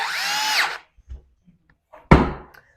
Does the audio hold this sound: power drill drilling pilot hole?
yes